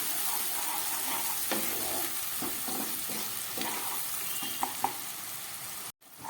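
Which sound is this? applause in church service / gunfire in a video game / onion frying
onion frying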